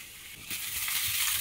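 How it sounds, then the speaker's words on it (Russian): Steady sizzling of potatoes frying in a pan, growing louder and brighter partway through as they are stirred, with soft scraping beneath. "Перемешиваю хорошо и готово"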